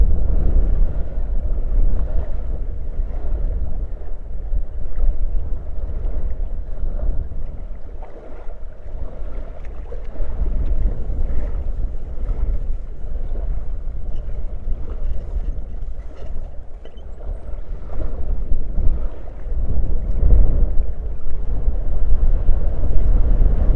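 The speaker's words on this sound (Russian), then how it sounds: "Кто такой ветер заказывал?" A continuous low rush of wind fills a fishing spot, steady and fairly loud, with a rumbling undertone like water or a motor.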